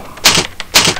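Keys tapped on a computer keyboard while entering a web address into an Internet Explorer browser, two close bursts of clicky keystrokes about half a second apart.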